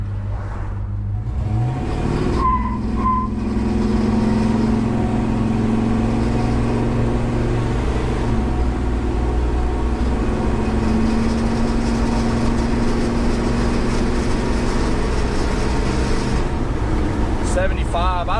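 A 1969 Cadillac Calais Coupe V8 on the move, a steady low engine drone with road rumble from inside the car, rising slightly at times, while someone talks over it.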